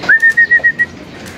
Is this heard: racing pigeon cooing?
yes